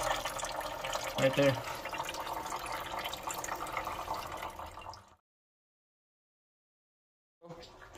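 Coolant drains from a Chevy Cruze 1.4 turbo, a steady trickle of liquid running for about five seconds under a brief spoken remark, then cutting to silence before faint sound returns.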